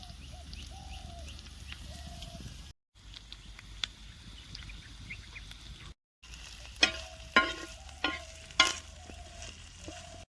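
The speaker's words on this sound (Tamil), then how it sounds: "தேங்காய் பூ, வெங்காயம்லாம் நல்லா வதக்கியாச்சிங்க, வதங்கி போய் கிடக்குது." Grated coconut and onion sauté in a pan with a soft, steady sizzle and frying crackle. Short pauses break it up, and later come a few sharper scraping clinks as the mix is stirred. Outdoor birdsong is faintly audible in the background.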